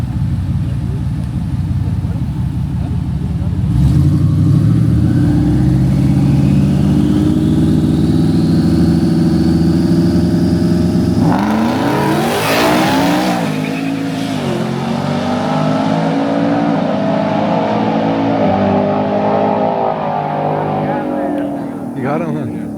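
Supercharged and twin-turbo Ford F150 pickups racing on a street run in Mexico, a loud engine roar rising in pitch through a long pull, then a second truck blasting past close by, with voices mixed into the din.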